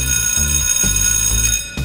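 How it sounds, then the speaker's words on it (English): A school bell rings continuously to end class, a loud, steady metallic ringing that fills the space and cuts off just before the end. "the bell means class is over"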